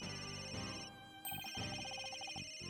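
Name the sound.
telephone ringing in Ace Attorney video game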